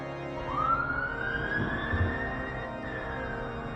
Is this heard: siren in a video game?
yes